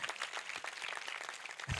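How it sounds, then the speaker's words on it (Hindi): A church congregation claps briefly during a sermon by Pastor Prince Charles. The sound is a faint, scattered patter of hands at moderate distance, uneven rather than a full roar. "उस बहन के लिए तालियां बजाओ"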